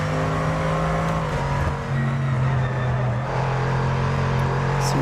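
A GT2 race car's engine in a racing video game drones loud and steady under load, its pitch shifting as it revs and changes gear, with no talking over it.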